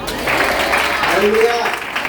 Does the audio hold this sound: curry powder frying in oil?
no